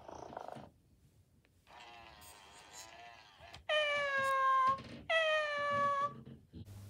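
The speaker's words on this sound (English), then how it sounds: "Not a bad purr" Little Live Cuddles toy kitten by Moose Toys, first a soft low purr, then a string of clear electronic meows, two of them long, loud and drawn out, with no talking.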